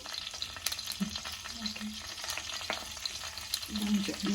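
Cumin seeds frying in a little hot oil crackle and sizzle in a kitchen pan, with scattered pops and occasional scraping of a spoon, fairly quiet and without talk.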